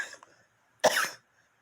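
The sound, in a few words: coughing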